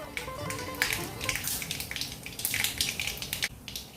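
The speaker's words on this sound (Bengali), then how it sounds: "দিয়ে দিচ্ছি সর্ষে ফোড়ন, সাথে সামান্য কালো জিরে ফোড়ন" Mustard seeds and nigella seeds sizzle and crackle in hot oil, after a dried red chilli has gone in, for a South Indian-style bhetki fish curry; a steady close fry with sharp spitting pops and some faint clinks.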